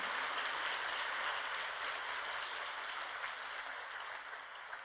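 Church congregation applauding during a sermon, a steady wash of clapping from many people that slowly fades, heard at a distance and fairly faint.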